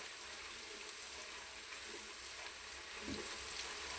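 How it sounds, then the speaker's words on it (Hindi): Garlic and ginger frying in a pan for chicken haleem, giving a quiet, steady close sizzle with light stirring, with no speech. "इसके 2-3 मिनट हम फ्राई करते हैं, क्योंकि लहसुन और जो अदरक की खुशबू है ना इसमें अच्छी तरह शामिल हो जाए।"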